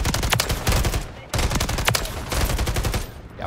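Rapid automatic gunfire from Call of Duty Modern Warfare III multiplayer, loud, dense bursts of shots filling the clip with a brief pause near the middle, with no talk over it.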